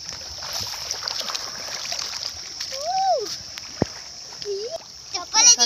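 Children bathe in a rural irrigation canal in Punjab beside rice fields, with splashing and flowing water under a steady wash of background noise, while voices talk and call out, growing louder near the end.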